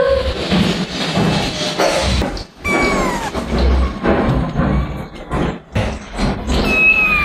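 A house cat meows repeatedly at close range, several drawn-out plaintive cries over a few seconds amid household clatter and background noise.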